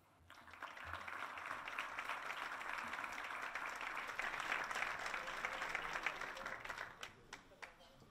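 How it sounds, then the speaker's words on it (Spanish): Loud applause at a cultural awards gala welcomes the foundation's representative, many hands clapping in a dense, sustained wave that builds steadily and then tapers off into a few scattered claps. "Vamos a recibir con un fuerte aplauso al representante de la Fundación Unicaja"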